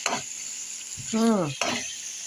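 Italian sweet sausages fry with peppers, onions and garlic in a pan under a soft, constant sizzle, broken by a few brief clatters and a short voiced sound in the middle.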